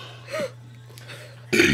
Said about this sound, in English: Can you say the ABCs in burp at the same time?